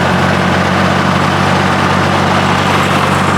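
A John Deere tractor engine runs with its RPMs being raised, making a loud, steady, close-up mechanical drone with a low rumbling hum and no voices.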